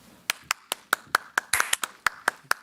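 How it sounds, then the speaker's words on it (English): A small audience applauding: sparse, distinct hand claps in a loose rhythm, about a dozen sharp claps, briefly overlapping near the middle, fairly close. "let's applaud for these two"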